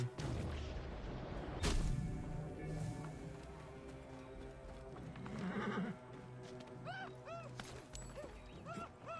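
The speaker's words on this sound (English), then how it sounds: "No, don't get on the horse." A horse in the game Assassin's Creed Origins whinnies several times in rising, wavering calls over steady clip-clopping hooves, with a loud thump early on and game sounds beneath.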